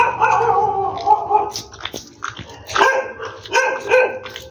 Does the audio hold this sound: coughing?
no